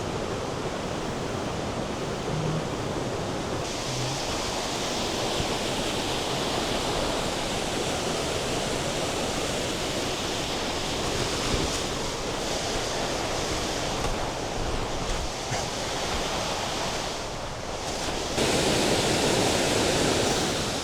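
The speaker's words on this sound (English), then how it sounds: "This waterfall is very loud this morning" A waterfall swollen by spring snowmelt runoff, heard as a loud, steady, broadband roar of rushing water that fills the whole scene without pause.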